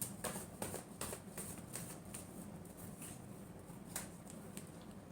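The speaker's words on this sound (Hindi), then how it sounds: "last shuffle" Tarot cards are shuffled in quiet, repeated soft riffles and flicks, a series of short papery bursts close by.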